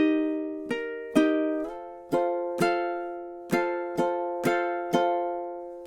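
Ukulele strummed in the rhythm of a measure of a tune, eight or so bright chord strokes in a syncopated up-and-down pattern, each ringing and decaying, played alone and close.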